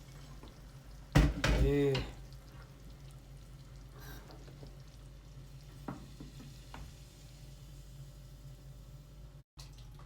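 A hot tadka tempering is poured over kadhi pakora and bursts into a loud, brief sizzle of about a second, which fades to a quiet background hiss while a voice speaks briefly.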